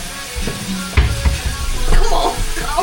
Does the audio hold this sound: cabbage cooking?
yes